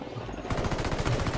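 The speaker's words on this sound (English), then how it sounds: "Opening fire on these fuckers." Rapid automatic gunfire in the video game Spec Ops, a continuous burst of sharp, evenly spaced shots that starts abruptly after a brief quiet moment and stays loud and close.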